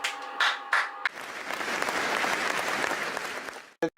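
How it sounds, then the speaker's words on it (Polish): Audience applause breaks out at a vintage motorcycle film awards gala, a dense, steady wash of many hands clapping after a brief voice, rising to a loud sustained roar before cutting off abruptly. "Brawa proszę Państwa!"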